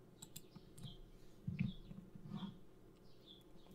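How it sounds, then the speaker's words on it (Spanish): Faint clicks of a computer mouse come from an ImageJ image-analysis session, with a few soft, irregular taps over a quiet background hiss and nobody talking. "se hace clic con el botón derecho"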